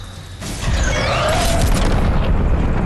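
A rocket crashing back down and exploding in the video game Fortnite, a sudden deep boom after a quieter moment, swelling into a loud sustained rumbling roar.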